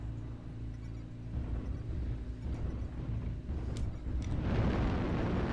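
An airstrike landing in MechWarrior Online, starting as a low rumble beneath a steady hum and swelling into a loud, rolling barrage of explosions near the end.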